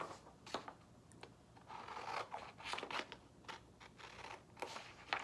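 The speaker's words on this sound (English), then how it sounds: "Gonna cut the leaves." Scissors snipping through paper to cut out leaves for a craft, a quiet close run of irregular crisp snips and rustles with no talking.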